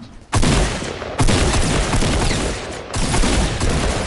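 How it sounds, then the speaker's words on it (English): Loud, booming gunfire in a video game, with a few heavy sniper rifle shots separated by long, sustained echoing rumbles. "Sniped them one time."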